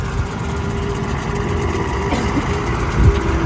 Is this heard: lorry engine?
yes